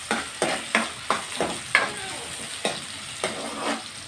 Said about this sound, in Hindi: घी थोड़ा सा गर्म हो और उसमें प्याज डाले